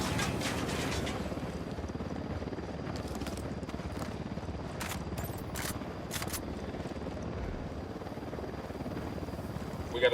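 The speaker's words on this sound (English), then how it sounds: "We got a chopper coming in." A helicopter approaches in Ghost Recon Wildlands as a steady, broad rotor wash that stays fairly even in loudness throughout, with a few brief clicks and no talk.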